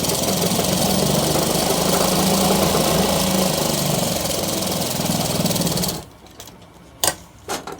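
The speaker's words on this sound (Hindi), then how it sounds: "तो इसके ऊपर चलिए दोस्तों सिलाई लगाते हैं।" A sewing machine stitches a shirt with a loud, fast, steady mechanical whir for about six seconds, then stops, leaving a few brief clicks and handling noises, with no talking.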